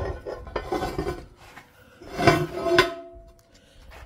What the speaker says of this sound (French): Voilà la poêle qu'on va cuire dedans le pain. Et on va la mettre à chauffer.